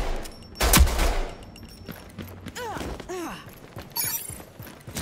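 Turret fire in the Rogue Company game: a loud, sharp gunfire burst early on, followed by quieter shots and whooshing, sweeping electronic effects, with a voice speaking over parts of it.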